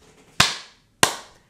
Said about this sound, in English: the next part, you know, is clap, clap